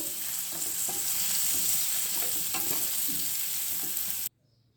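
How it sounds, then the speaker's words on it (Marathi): Bitter gourd coated in a spice mix made without garlic or onion is stirred in a hot pan, giving a steady sizzle with soft scraping strokes that cuts off abruptly near the end. "सर्व मसाले घातल्यावर कारले व्यवस्थित हलवून घ्यायचे"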